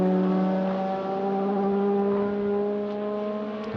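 Race cars, including a GT4, run side by side down the pit straight at Magny-Cours, a steady loud engine drone holding a sustained pitch that rises slowly, close by, with no talk.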